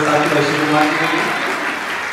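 An audience claps for Shiv Kumar at a school guidance workshop, a dense, steady wash of applause heard close and loud, with a voice over it.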